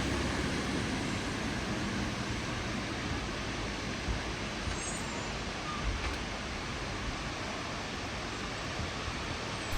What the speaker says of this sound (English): this endless car noise, honestly, I've had enough